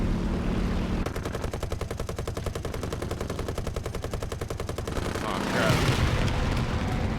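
Rapid machine-gun fire in a video game, a long, fast, evenly spaced burst of loud shots lasting several seconds, followed by a rushing blast-like swell, under background game noise.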